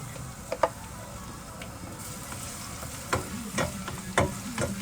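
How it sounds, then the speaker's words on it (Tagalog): Garlic frying in a pan at the start of cooking pork adobo. A steady, close sizzle runs throughout, with sharper clicks and scraping stirs of the utensil against the pan. "Ilagay na po natin ang ating garlic."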